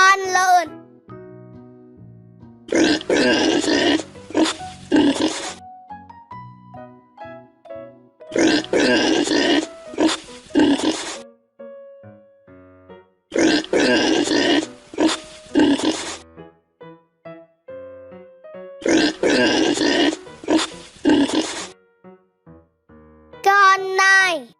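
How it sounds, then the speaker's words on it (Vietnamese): Repeated bursts of rough pig grunting and snorting, four long loud clusters separated by quieter gaps filled with gentle music and a voice at the edges. "Con lợn."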